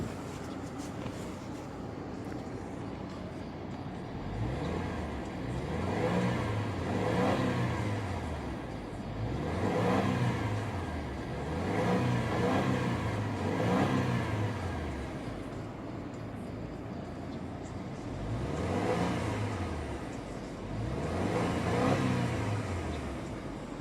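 A 2019 Subaru Ascent Touring engine is revved several times, each rev rising and falling smoothly in a steady pattern of swells from a low idle, heard fairly quietly from inside the car.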